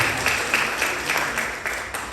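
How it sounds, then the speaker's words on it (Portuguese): A church congregation claps at an Adventist church inauguration service in Bofete, a brief burst of fairly loud, rhythmic applause throughout. "O senhor não merece uma salva de palmas por isso, não?"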